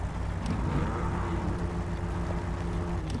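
Truck engine in the off-road driving game SnowRunner, a steady low rumbling drone holding a constant pitch, close and continuous without talk.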